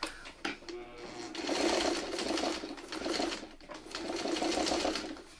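A hand-cranked sewing machine stitches a pinned quilt block, its rapid mechanical chatter running in two close bursts with a brief pause between, no voices.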